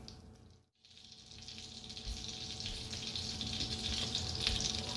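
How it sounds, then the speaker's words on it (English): Pot of water at a light boil on the stove, a steady close bubbling hiss that runs continuously after a brief quiet gap near the start, with no talking. "Make sure that our water is just boiling at a level, just a very light boil"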